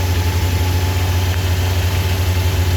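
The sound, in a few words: 1994 Kawasaki ZX-9R motorcycle engine idling after cold start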